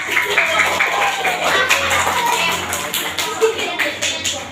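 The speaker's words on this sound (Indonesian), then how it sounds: "Tepuk tangan dong buat Asep dan Dani," An audience, among them children, at a short religious school session claps for two children, a dense patter of hands that carries on steadily, with voices mixed in.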